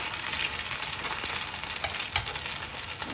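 Vietnamese fish cake frying in hot oil, a steady crackling sizzle with scattered pops and spits throughout, close and moderately loud.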